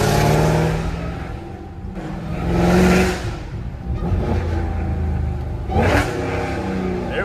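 Dodge Demon engine on a New York street, revving hard in several loud bursts that swell and fade, close up, with a deep rumble holding between throttle blips.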